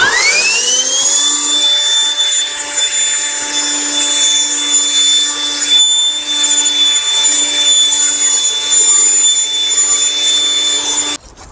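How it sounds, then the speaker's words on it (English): An OGERY cordless handheld leaf blower running steadily and loud for about eleven seconds, a high whining motor tone with a constant rushing airflow that cuts off abruptly at the end. "You got my glasses and my OGERY leaf blower"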